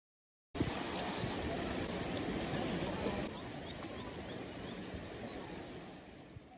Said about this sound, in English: The sounds by this creek are awesome